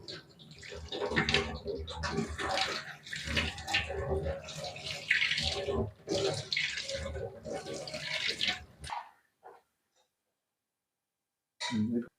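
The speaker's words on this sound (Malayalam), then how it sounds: "ഇനി നമുക്കിതൊന്ന് തണുത്ത വെള്ളം ഒഴിച്ച് നന്നായിട്ടൊന്ന് കഴുകിയെടുക്കാം." Sago pearls being washed in cold water for pineapple payasam, with loud sloshing and pouring water lasting about nine seconds, then near silence and a brief final splash.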